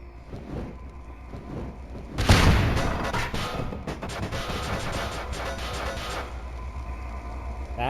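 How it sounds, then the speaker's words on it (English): A loud explosion in the game Voices of the Void strikes with a sudden heavy boom, then rolls into a long crackling rumble that fades slowly over several seconds. "That was an impressive explosion, but I don't hear any angry boars."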